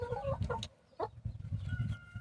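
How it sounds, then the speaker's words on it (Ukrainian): A small backyard flock of about five Dominant-breed hens kept with a Kuchinsky rooster, clucking in soft, repeated bursts close to the microphone, with quieter low murmuring calls in between. "Вот пятеро курочек"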